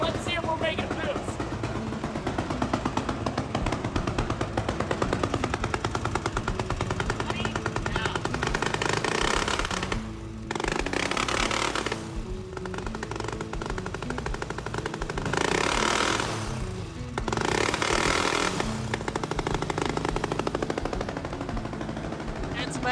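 Supercharged engine in a mini trophy truck idling loudly and roughly, a dense rapid popping rattle that runs nearly throughout, briefly dipping a few times, with voices talking over it.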